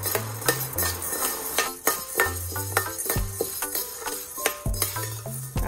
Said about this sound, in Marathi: हरभऱ्याची डाळ सुद्धा आपल्याला खरपूस भाजून घ्यायची आहे